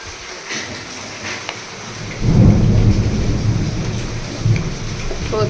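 Loud rolling thunder rumbles in from outside during a thunderstorm, a deep boom swelling midway over a steady wash of heavy rain on surfaces, with a second smaller rumble near the end.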